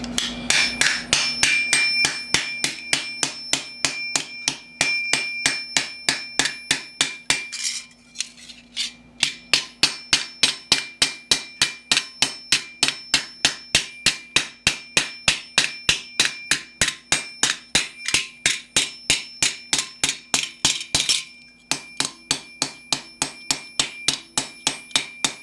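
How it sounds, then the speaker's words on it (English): A small ball-faced hammer strikes steel sheet set in a deep dish, shaping the knuckle edges of a Milanese mitten gauntlet. Rapid, evenly spaced ringing metallic blows keep up a steady rhythm, with two short pauses. "using a deeper dish and a small ball-faced hammer to put in more depth along the knuckle edges of each side"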